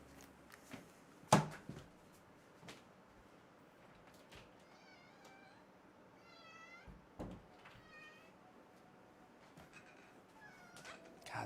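A pet cat meows several times in a short series of mid-pitched calls, fairly faint in a quiet room, with a sharp bump and a few soft clicks nearby.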